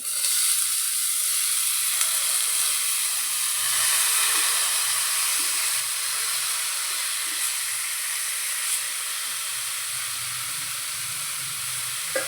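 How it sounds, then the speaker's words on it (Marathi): Washed ridge gourd pieces drop into hot oil with turmeric in a pan and sizzle steadily, a close, even hiss with no talking. "यात आता हे जे गिलकी धुवून घेतली हे टाकू"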